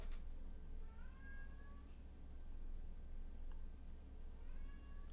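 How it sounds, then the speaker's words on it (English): A cat lets out a couple of faint, drawn-out meows over a quiet low hum indoors, with a short pause between the cries. "I think Sage Cat is crying."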